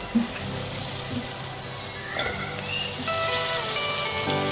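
Mixed vegetables including carrot, potato and peas dropped into a hot pan, a steady close sizzle and crackle of frying with occasional stirring clinks, no talking.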